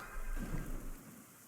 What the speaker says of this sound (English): Oh, again, the rain of blood.